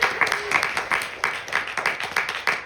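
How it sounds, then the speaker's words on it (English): Audience at a Hindu temple's Navratri night service in New York claps in a rough rhythmic pulse, individual slaps standing out in waves, fairly close and lively. "Give our Shirley G a round of applause."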